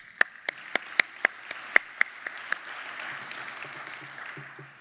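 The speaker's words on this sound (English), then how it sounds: "To all of those, how about a round of applause?" A small group of audience members clapping at an industry awards ceremony: a run of distinct, evenly spaced sharp claps up front, fading into softer, scattered clapping with faint murmuring underneath.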